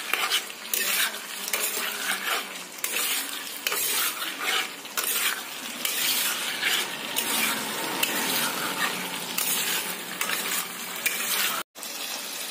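Potatoes sauté in a hot pan while being stirred, a steady loud sizzle broken by repeated scraping strokes of the spatula, close up and continuous with a brief cut near the end and no voices.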